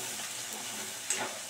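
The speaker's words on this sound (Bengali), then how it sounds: "দেওয়ার পর কিন্তু ভালো করে আমি মিশিয়ে নিচ্ছি" Spice mix with kasuri methi stirred in a pan, with a low, soft sizzle and one brief scrape near the end, quiet and close, no voices.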